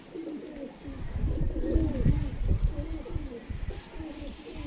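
Several pigeons coo in low, throaty, rolling calls close by, overlapping continuously through the few seconds with no talk.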